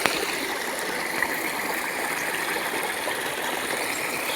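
A jungle stream flows steadily nearby in a constant, even wash of rushing water with no pauses and no voices.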